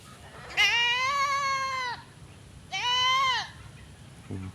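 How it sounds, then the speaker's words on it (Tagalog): A goat on a farm with an eggplant plot lets out two loud, wavering bleats close by, the first long and the second shorter, with quiet pauses and no voices. "Kambing na to, maingay."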